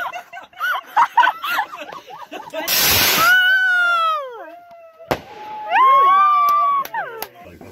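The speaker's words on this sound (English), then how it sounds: "I think this is a Roman candle." Roman candle fireworks set off outdoors on New Year's Eve make a loud hissing burst, then whistling, rising shrieks and a sharp bang, with people laughing and talking nearby.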